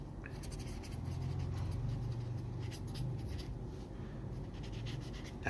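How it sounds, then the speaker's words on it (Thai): A pen writing by hand on paper, producing a quiet, steady scratching with short strokes, close to the microphone over a faint background hum and with no talking. "ขออนุญาตเขียนนิดหนึ่ง"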